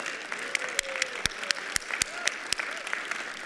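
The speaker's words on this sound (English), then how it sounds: "You were wanting to applaud for the..." An audience at a church sermon applauds, a sustained spread of clapping with distinct sharp individual claps standing out, moderately loud, with a voice speaking faintly underneath.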